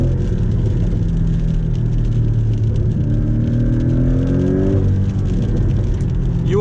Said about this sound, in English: You also get a sports exhaust if you go for the GTS, so a bit louder, some crackles.